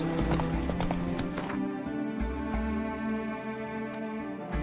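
Hooves of the horse Roach clip-clop steadily in The Witcher 3, a quick, regular gait heard close up over a low game soundtrack and ambient drone, with no one speaking.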